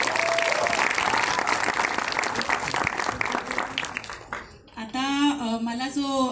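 An audience at a film song launch event in Pune applauds in a dense, loud burst of clapping that thins out after about four seconds, followed by someone speaking into a microphone.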